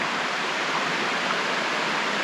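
Creek water flowing right beside a campsite in the morning, a constant close rushing and babbling wash with no voices over it.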